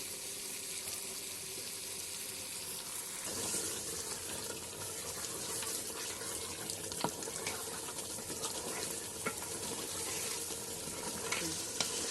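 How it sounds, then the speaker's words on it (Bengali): Desi chicken curry sautés in a pan with a steady, close frying sizzle that runs throughout, punctuated by occasional stirring clinks and a brief watery splash of sound. "এবার কষা হয়ে গেছে 10 মিনিট মতো"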